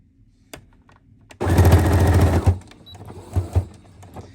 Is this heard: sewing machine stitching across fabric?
yes